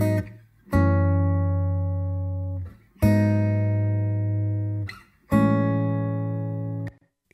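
Four acoustic guitar notes or chords, each struck alone and left to ring with no compression, decaying quickly before the next strike, clean and fairly close.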